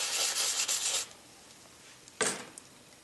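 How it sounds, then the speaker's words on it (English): Reliefing block rubbed over a raised, embossed brass area: a close scratchy rub for about a second, then a pause and a short second swipe. "bring back the brass in the entire raised area by using this side of the block"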